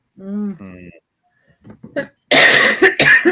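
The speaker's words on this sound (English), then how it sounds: "I'm sorry, I keep coughing." A voice speaks briefly, then a few harsh, loud coughs burst out in a quick cluster near the end.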